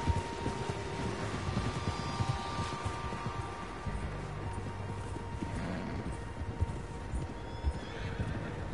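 Several horses in the video game Red Dead Redemption 2 neigh and whinny while hooves clip-clop steadily, a continuous moderate-level mix with no talk.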